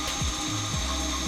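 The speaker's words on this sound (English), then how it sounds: "I'm going to center this drill bit on this little hole right here. Just ever so slowly," A drill bit slowly bores a hole through the front splitter of a 2018+ Mustang during a ZL1 Addons splitter install, giving a steady close mechanical whir with a few brief grinding surges.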